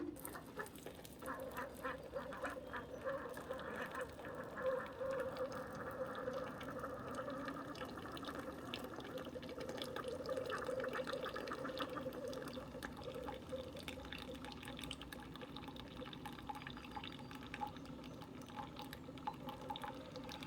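A Keurig K-Supreme coffee maker brews a K-Cup on the 8-ounce setting, giving off a continuous gurgling, sputtering hiss with bubbling liquid throughout. It is moderately quiet and nobody talks.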